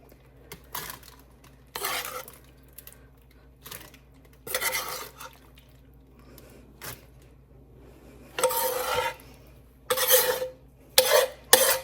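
Meat mixture spooned and scraped into the bottom of a casserole pot for a low-carb pizza casserole, giving several separate bursts of wet scraping and utensil clatter against the pot with quiet gaps between them.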